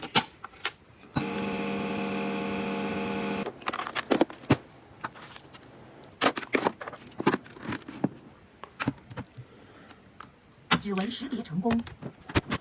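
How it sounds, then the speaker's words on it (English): A small compact washing machine runs with a steady mechanical whir for about two seconds, then breaks into intermittent clicks, taps and handling noises at close range. "We've got this small washing machine."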